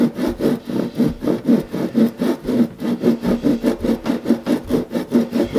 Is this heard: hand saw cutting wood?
yes